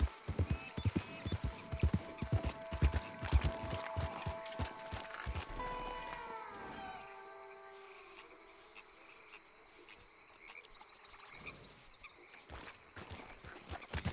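Horse hooves pounding in a rapid galloping rhythm in Red Dead Redemption 2, loud clip-clops at first that fade and slow into quieter ambience with insects chirping, later returning faintly.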